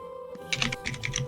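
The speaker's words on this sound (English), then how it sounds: "God damn, Nari, you and your loud ass keyboards" Someone types on a loud computer keyboard during an online tabletop game session, a quick burst of clacky key presses in an uneven rhythm, fairly close and alone without talk.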